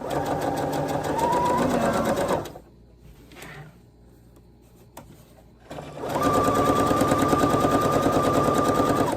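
Sewing machine stitching a jacket at a long stitch length, a loud, steady rapid rattle that runs for a couple of seconds, pauses briefly with soft handling noises, then starts again and continues.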